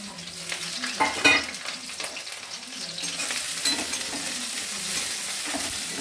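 Garlic and spring onion bulbs fry in a generous amount of oil for veg manchurian, producing a loud, close, steady crackling sizzle with occasional stirring knocks.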